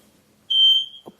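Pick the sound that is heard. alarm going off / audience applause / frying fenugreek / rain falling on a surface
alarm going off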